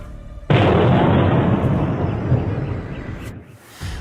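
A sudden loud explosive boom erupts and rolls on as a long, rumbling roar that slowly fades over a few seconds.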